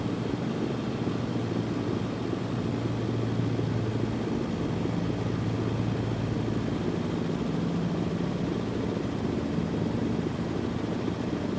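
A plane flies in the SimplePlanes 2 video game, a continuous broadband engine drone with a low steady hum that holds level throughout, with no voices.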